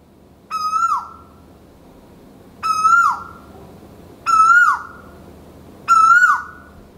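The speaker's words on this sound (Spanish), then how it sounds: "no tardamos en oír el despertador de la selva, el coel asiático. Este ruidoso pájaro pertenece a la familia de los cucos" An Asian koel in Maldives forest gives four loud, ringing calls, each a sharp rising-then-falling note, spaced about one and a half seconds apart, close by with no talk.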